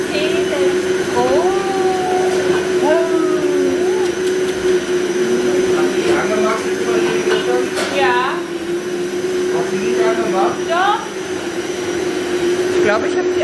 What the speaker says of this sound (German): Hat der Papa den Mixer angemacht?